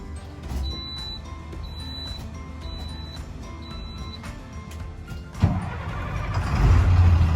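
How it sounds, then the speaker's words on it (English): A bus engine cranking and catching after a fuse change, turning over with a sudden burst then settling into a loud, rough low rumble close by. "Hopefully the bus will start then."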